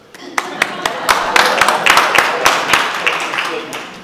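Audience applause at a talk on activism and social change: a scattered patter of claps that thickens into steady clapping from a crowd, with a voice speaking over it.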